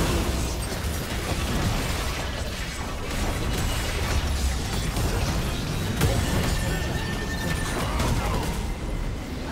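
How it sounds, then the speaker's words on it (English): A turret collapsing in League of Legends, a dense, loud rumbling crash of explosive debris and crumbling masonry sustained throughout, with a sharp burst near the middle. "Red team's turret has been destroyed."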